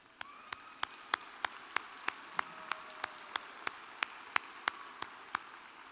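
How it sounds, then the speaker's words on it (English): A few people clap slowly and unevenly, around eighteen sharp claps spaced about every third of a second, faint and far off. The thin round of applause for parents rises from a commencement audience at an App State health sciences graduation. "always join me in a round of applause for your parents"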